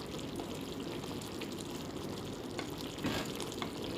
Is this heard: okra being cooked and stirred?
yes